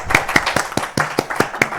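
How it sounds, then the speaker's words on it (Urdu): An audience at a book launch claps in a brisk, steady burst of applause that is close and fairly loud, with individual hand claps standing out. "اس پہ تالیاں بنتی تھی"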